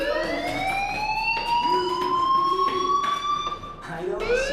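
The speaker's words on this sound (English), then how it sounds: "Hey, do you hear that fire alarm?" A school fire alarm rings in the video game Life Is Strange, a loud, continuous electronic wail with rising, gliding tones, while a voice speaks underneath.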